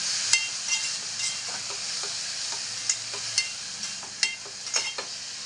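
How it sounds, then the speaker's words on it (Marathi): Tomatoes are stirred into frying onions in a pan. A soft steady sizzle runs throughout, broken by repeated scraping clicks of the spoon against the pan. "आपण टॅमॅटो ॲड करूया आपण कांद्यामध्ये मिक्स करून घेऊया"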